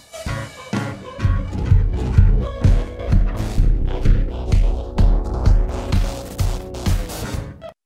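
Transmutator plugin morph mode with invert engaged blends two inputs into a loud, busy musical texture with steady driving beats, bright crashing highs and a dense low end that pulses on without any speech.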